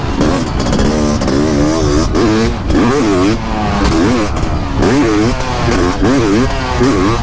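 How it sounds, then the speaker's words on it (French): A CR 500 motocross bike rides through big holes, its two-stroke engine rising and falling in repeated short throttle blips and revs, loud and close with no talking. "Les petits coups de gaz bien placés au bon endroit."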